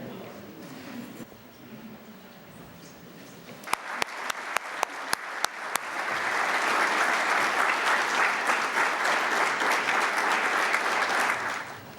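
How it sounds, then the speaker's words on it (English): Audience applause at a nutrition research professorship ceremony, beginning with a few separate claps and swelling into sustained, dense clapping from a room full of people, steady and fairly loud until the end. "Just stand there in the front and so that we can all applaud"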